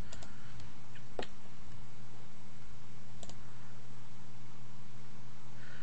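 A handful of sharp computer mouse clicks, some in quick pairs, tap over a steady low electrical hum, close and without talk.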